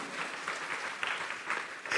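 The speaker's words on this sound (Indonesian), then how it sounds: "Beri tepuk tangan yang meriah." Church congregation applauding during a sermon, a steady wash of clapping at moderate distance that swells in bursts and grows louder at the end.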